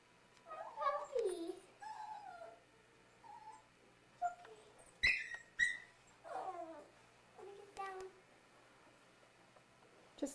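A puppy whimpers and whines in short, high, wavering cries on a Christmas morning at home, with faint background voices.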